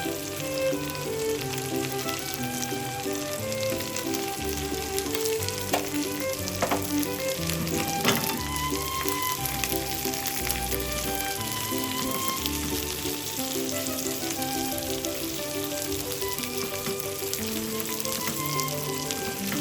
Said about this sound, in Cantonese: 中大火先煎一煎啲蝦先